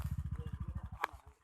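On a rainy day in a village, a motorcycle engine chugs with rapid, even low thumps. It is fairly faint and nearby, and a single sharp click cuts in near the end as the engine fades.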